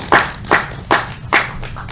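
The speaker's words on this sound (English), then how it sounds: "I think he deserves a great round of applause for putting this together" An audience claps for Frank in several short, loud bursts, about four or five sharp swells of applause that rise and fade in a steady rhythm with no talking.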